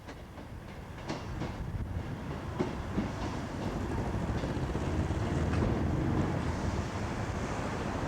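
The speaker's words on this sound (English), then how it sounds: "2 Class 158s are arriving" Two British Rail Class 158 diesel trains pull into Liskeard station at the top of a grade by a large viaduct, giving a steady low rumble that slowly swells as they draw nearer.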